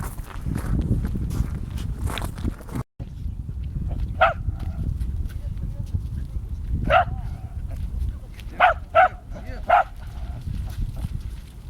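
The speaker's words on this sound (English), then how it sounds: "I wanted to hear him bark again." A dog barks outdoors in Ireland with several separate sharp barks spaced across the span, moderately near, over a rumble of wind and footsteps, with people talking at the start.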